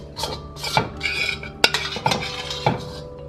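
A spoon scrapes and clinks in a pan while glazing longanisa with soup sauce, a series of close, irregular metallic scrapes and taps.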